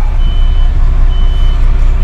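A truck with trailer in reverse gear gives off loud, evenly spaced electronic reversing beeps, two clear pulses over a constant heavy diesel rumble close to the microphone.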